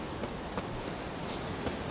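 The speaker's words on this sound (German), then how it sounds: "Ist halt windig." Wind in The Witcher 3 during dark, gloomy weather, a dense steady rushing hiss with faint gusting swells, loud and alone without speech.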